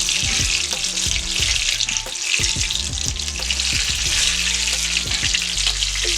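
Egg rolls fry in a pan of hot oil with a steady, dense sizzle and crackle, punctuated by light pops and clinks, close and continuous with no talking.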